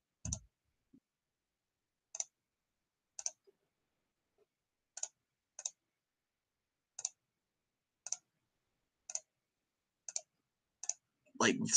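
A computer mouse clicks on surfaces in design software while drafting birdhouse blueprints. About a dozen crisp, close single clicks come at uneven intervals in near silence, with brief rustling at the end.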